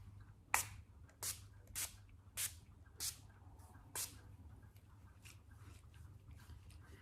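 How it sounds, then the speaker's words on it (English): Makeup setting spray misted in about six quick, separate hissing pumps, close and fairly soft, spaced roughly half a second apart, then quiet background. "I'm just gonna use my setting spray."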